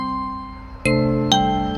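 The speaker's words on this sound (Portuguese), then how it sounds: "Ela ouve o toque do celular às 4h10." A mobile phone alarm ringtone plays at 4:10 in the morning: three bright chime notes, roughly half a second apart, each ringing on with sustained tones over a soft background.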